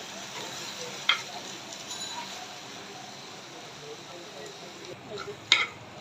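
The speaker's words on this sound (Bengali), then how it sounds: "দিয়ে পেঁপেটা নাড়াচাড়া দিয়ে দিব আর চুলা রাখটা কমিয়ে দিব" Raw papaya and green chilies sizzle steadily in a pan while being stirred, with soft scraping and two sharp utensil clinks against the pan.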